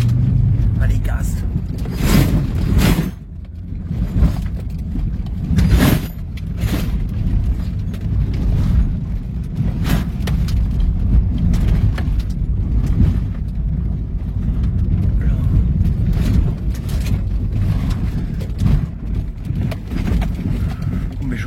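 Jeep Grand Cherokee WJ engine throttled up during an off-road steering box test, a steady low rumble with bursts of knocking and clunks, continuous and fairly loud with talk nearby.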